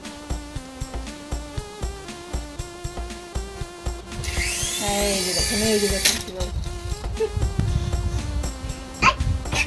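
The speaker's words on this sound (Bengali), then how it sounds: "হেলিকপ্টার দেখেন কি করে" A battery-powered toy helicopter, sent as a gift, runs for about two seconds mid-clip, giving a steady high whir that sits over loud background music with rhythmic beats.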